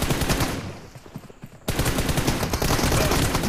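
Rapid automatic gunfire in the mobile battle-royale game PUBG Mobile, bursts of loud shots filling the whole stretch with a brief lull in the middle before the firing resumes.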